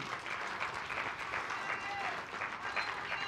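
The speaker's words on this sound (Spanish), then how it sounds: "Dé un aplauso al Señor." A church congregation applauds in praise, a steady, dense wash of clapping from many hands, held at an even level throughout.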